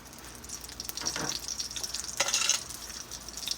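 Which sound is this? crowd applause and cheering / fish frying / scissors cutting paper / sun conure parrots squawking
fish frying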